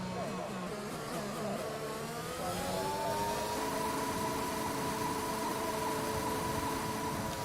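Racing car engine in a Formula-style racing video game at Monaco, held at full throttle on the main straight, a loud sustained high-pitched drone that climbs steadily in pitch, with other engines faintly behind.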